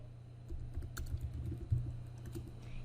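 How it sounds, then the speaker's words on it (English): A file name is typed on a computer keyboard: quiet, quick, irregular key clicks in short bursts, close by with nothing else over them. "type a name for it"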